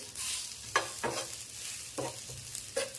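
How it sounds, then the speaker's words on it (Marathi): A small amount of onion dry-roasts in a pan for a Khandeshi katachi amti spice paste, faint low crackling with several soft spoon scrapes and stirs at irregular intervals. "हा थोडासा कांदा फक्त भाजून घ्यायचा आहे"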